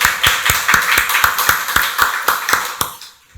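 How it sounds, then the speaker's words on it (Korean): A church congregation clapping during Sunday worship, a short run of steady, evenly spaced unison claps about four per second, fairly close and distinct, stopping abruptly after about three seconds. "박수로 하나님께 영광 돌리겠습니다."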